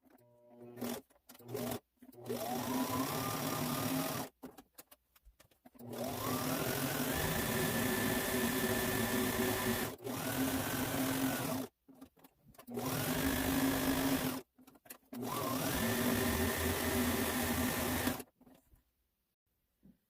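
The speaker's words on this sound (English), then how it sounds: "do, again, a straight simple stitch around the edge to get one solid piece" Sewing machine running a straight stitch around the edge of a skirt frame for an Irish dance dress, several sustained whirring runs of a few seconds each, close and steady, broken by short pauses.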